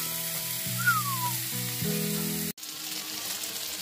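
Butter and thick, zesty pasta sauce sizzle in a frying pan with a steady, close hiss. A faint steady hum sits beneath it, and the sound cuts off abruptly partway through before the hiss resumes.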